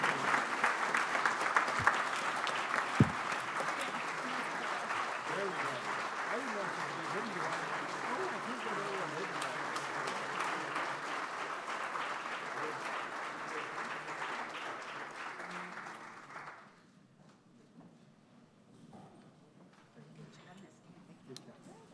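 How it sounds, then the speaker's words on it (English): Audience applause for newly installed board members, a dense, sustained crowd clapping at a formal gathering that carries steadily for about sixteen seconds before dropping away to quiet room tone. "Let's give a round of applause to all of these new board members."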